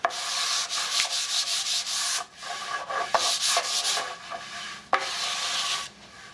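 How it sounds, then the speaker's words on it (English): Steady, light hand sanding of a polyurethane finish on cherry wood, a soft rhythmic rubbing in long strokes with brief pauses between passes, close and alone. "The sanding is much lighter now."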